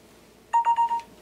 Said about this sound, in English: When you hear that sound, that means it's AirDropping.